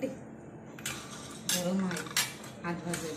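A knife cuts through a hot, crispy homemade samosa on a plate, giving several sharp clinks and scrapes of metal against dishware, with a voice speaking faintly between them.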